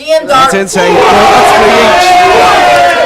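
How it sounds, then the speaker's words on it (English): Darts crowd at the N.I.D.O. 2019 Masters roars loudly and continuously after a throw, a dense sustained cheer with a brief voice speaking at the start. "The crowd reaction says it all."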